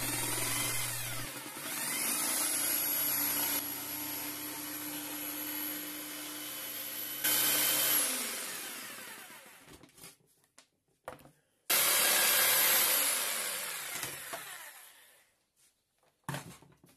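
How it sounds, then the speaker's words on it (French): A power jigsaw buzzes loudly as it cuts, running steadily for several seconds, stopping, then starting again for a second burst with brief pauses. "Et je les découpe à la scie sauteuse."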